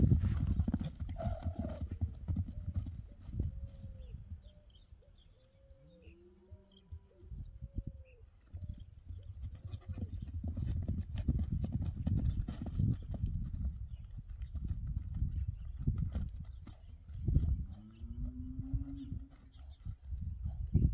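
Hooves of a mixed-Criollo horse clip-clop steadily on the ground, moderately close, with birds chirping around and a brief whinny, and no talk over it.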